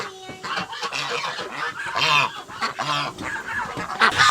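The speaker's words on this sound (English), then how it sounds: "We have had geese here a long time." Geese honking on a farm, a loud, busy chorus of repeated nasal honks overlapping in quick irregular bursts from close by, with no talking.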